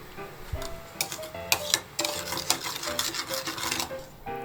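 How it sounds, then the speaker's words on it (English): Rice vinegar, sugar and salt stirred in a bowl with a utensil, giving repeated light clinks and scraping taps in a steady, close rhythm, with no voices. "In a bowl, mix the rice vinegar, sugar, and salt until the sugar dissolves."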